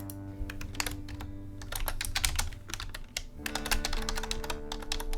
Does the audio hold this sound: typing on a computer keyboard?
yes